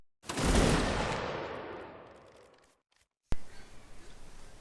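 A musket volley from a reenactment company crashes out as one loud, close blast that rolls away in a long decaying echo, followed by a short silence and then shuffling movement.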